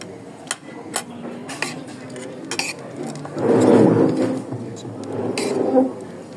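Pad Thai stirred in a pan with a utensil: sharp metallic clinks and taps, then a louder burst of scraping and sizzling partway through, while people talk nearby.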